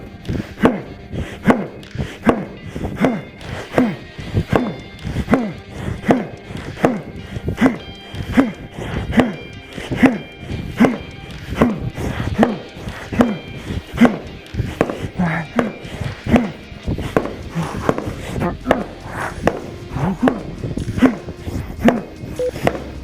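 An axe chops a tree log at a lumberjack event. The blows are sharp and fall at a steady beat of roughly one per second, with a faint background of other noise.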